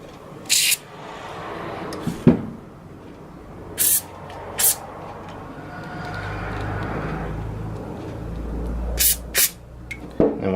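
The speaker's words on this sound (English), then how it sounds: "I can spray inside, and hopefully some of it will reach the insides of that" Aerosol grease lubricant sprayed into the squeaky clutch pedal assembly of a 2003 Infiniti G35, heard as several short, close bursts of hiss spaced across a quiet background with a low hum.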